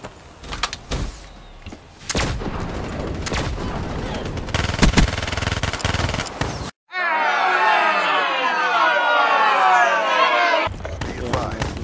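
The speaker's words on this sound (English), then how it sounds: "I'm getting shot from all corners" Rapid bursts of gunfire from Call of Duty Black Ops 3 crack loudly and repeatedly, then break off into a stretch of voices.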